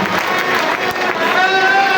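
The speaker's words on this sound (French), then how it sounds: "Je crois que vous pouvez les applaudir encore plus et leur dire merci." Audience applause at a large gathering, steady dense clapping from a crowd that fills the whole moment, with faint tonal sounds rising toward the end.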